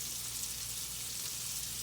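Sausage sizzles steadily in a hot pan in a Southern home kitchen, a constant bright crackling hiss with no pauses and no talk.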